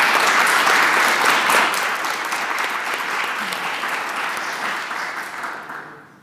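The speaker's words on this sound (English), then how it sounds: "let's give another round of applause for Connor" Loud, dense audience applause at an honors conference presentation, sustained for several seconds before tapering off and ending abruptly.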